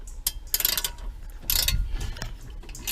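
A ratchet tightens 8mm bolts with quick clicking bursts of metal mechanism, close and fairly loud, in two main runs of ratcheting strokes.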